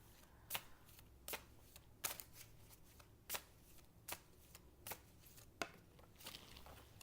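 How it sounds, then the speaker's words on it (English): Cards are riffled and shuffled repeatedly, about ten crisp quick bursts in an irregular rhythm, close and clear in a quiet room. "shuffling now for Friday."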